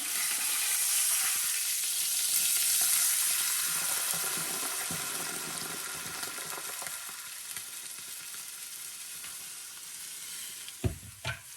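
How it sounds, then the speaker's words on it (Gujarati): Buttermilk poured into a hot tempering of cumin and a pinch of asafoetida for a besan kadhi, giving a loud, steady sizzle that fades slowly, with a few sharp clinks near the end. "જો હવે આમાં છાશ નાખી દઉં છું અંદર."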